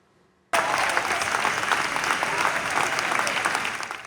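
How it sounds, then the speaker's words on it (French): Audience applause at an outdoor closing concert, starting abruptly after a moment of near-silence and continuing as a dense, steady wash of many hands clapping, moderately loud, with crowd noise underneath. "Sous les applaudissements du public"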